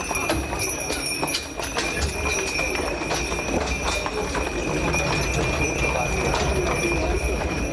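Horse-drawn carriage clip-clopping over narrow car-free streets, steady hoofbeats under a constant busy ambient wash with a high tonal whine and scattered background voices.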